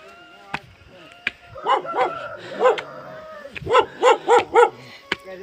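A dog at a village house in Kathud barks in a series of sharp, fairly close barks, first a few spaced ones and then a quicker run of four, with faint background sounds between.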